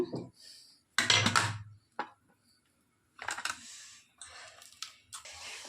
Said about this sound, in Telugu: వాళ్ళు ఫ్రెష్గానే వెల్లుల్లిపాయలు కావాలట అందుకని అవి దంచేసుకుంటున్నారు